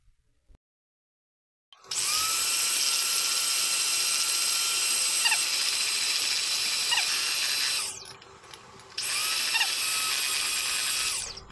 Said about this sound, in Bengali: এখন আমি এটাকে বিটার মেশিন দিয়ে বিট করে ফোম করে নিব